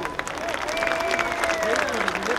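A crowd applauds escaramuza rider Oyuki Méndez at a charro festival, with dense, sustained clapping while a voice carries over it.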